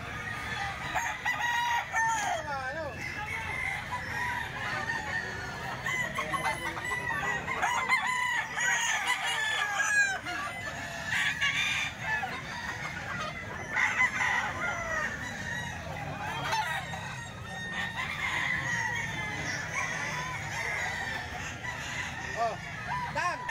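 Many roosters crow repeatedly and chickens cluck at a busy tiangge market, a dense steady chorus of fowl with faint voices in the background.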